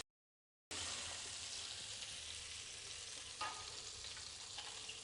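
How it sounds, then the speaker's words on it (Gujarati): Garlic chutney sizzling and crackling in hot oil in a kadai while cooking an okra dish, a steady, close frying hiss that runs unbroken after a brief silent start, with no voices. "અહીંયા લસણની ચટણી પણ એકદમ સરસ કકડી ગઈ છે"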